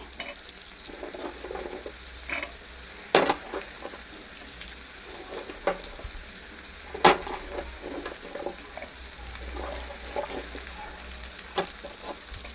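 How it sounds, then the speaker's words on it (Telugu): Okra pieces sizzle and crackle as they fry in a pan, a steady soft hiss broken by occasional sharper pops and stirring scrapes, fairly quiet and with no voices. "ఇందులోకి బెండకాయ ముక్కలు అనేది వేసుకుందామండి"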